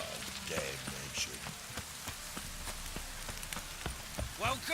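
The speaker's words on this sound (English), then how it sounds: "Looks like rain." Steady rain falls in the Witcher 3: Wild Hunt game world, a constant hiss with scattered drop ticks and sparse clopping, underneath a voice speaking.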